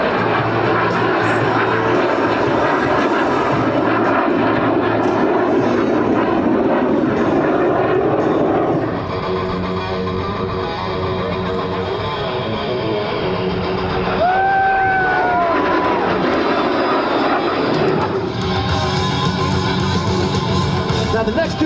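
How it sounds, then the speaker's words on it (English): Alpha Jet making a low-speed pass at the Gowen Thunder airshow without afterburners, then climbing away while accelerating, giving a loud continuous jet-engine roar that swells and shifts in pitch as it passes, with faint crowd sound beneath. "the jet as it performs the low speed mode. Without afterburners and climb away while accelerating."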